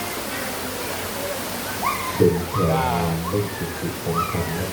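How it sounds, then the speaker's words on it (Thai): A waterfall at Wat Paknam Phasi Charoen temple pours with a steady, broad rush of water, while someone speaks an exclamation over it at close range. "มีน้ำตกด้วยนะพี่น้อง อยู่วัด ปากน้ำภาษีเจริญนะครับ"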